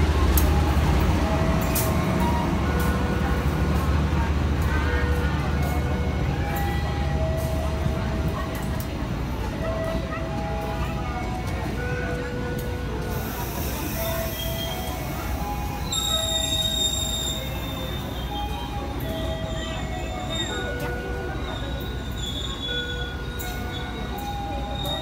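A passenger train hauled by a CC201 locomotive runs on the rails from Jakarta to Bandung, a loud continuous rumble with rhythmic wheel clatter and occasional squealing tones throughout.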